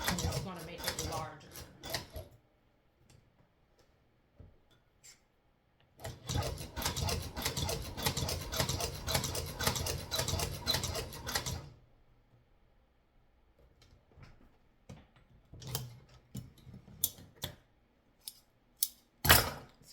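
A budget leather sewing machine stitching at changing stitch lengths, running in rapid mechanical bursts, one long steady run in the middle and shorter clattering runs around it, close and clear with pauses between.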